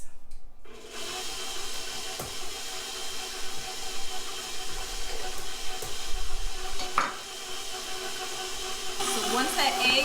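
Two eggs being stirred into chocolate chip cookie dough in a bowl, a steady soft scraping and mixing texture with brief clicks, continuing under low kitchen noise.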